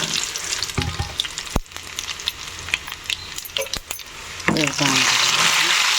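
Seeds tempering in hot oil for sambar spit and crackle up close, broken by sharp clinks of a utensil against the pan. A voice is heard briefly, then the sizzle swells loud and steady at the end.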